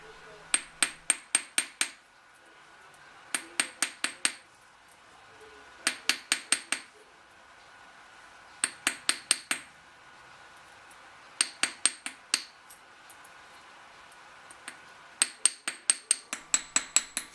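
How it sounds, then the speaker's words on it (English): A small hammer taps a jewellery rivet in quick bursts of four to six light, ringing metallic strikes, each group separated by a brief pause, close and crisp with no talking. "and hammer each side in turn"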